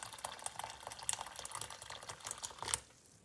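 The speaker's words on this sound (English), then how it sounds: "I'm just going to cover it in boiling water and put it on for 25 minutes." Boiling water poured from a kettle over 200 grams of brown rice in a pan, a fairly quiet, continuous splashing stream with small bubbly gurgles that stops abruptly near the end.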